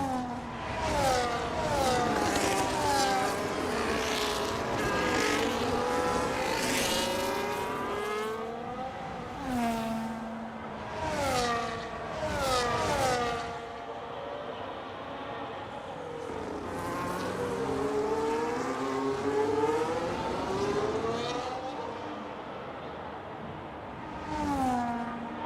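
Formula 1 race cars in the F1 25 racing game scream past at Imola, their engines rising and falling in pitch as they accelerate and shift through gears in repeated loud passes, with several cars overlapping.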